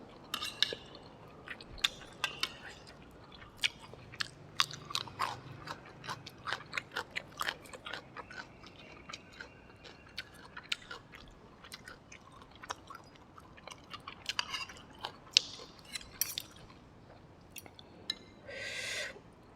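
Crunchy chewing of stir-fried whole shrimp with heads on, from a spicy Thai basil stir-fry, comes as close, quiet, irregular bites and crunches with soft breaths in between.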